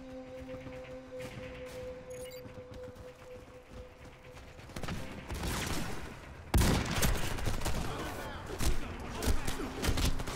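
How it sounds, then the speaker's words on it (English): Gunfire in the Warface shooter, scattered shots and bursts that grow denser and louder midway, ending in sharp close volleys over a background game soundscape. "I hear shots fired"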